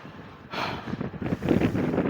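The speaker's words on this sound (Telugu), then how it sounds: "చల్ల గాలి వస్తుంది." Cool wind blows across the open heights of Golconda Fort in Hyderabad, a soft rushing buffet against the microphone that swells after a brief lull and keeps gusting unevenly.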